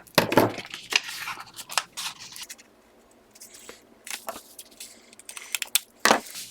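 Close, crisp snips and crinkles of scissors cutting a sheet of paper to make a tag, arriving in irregular bursts with quieter rustling between.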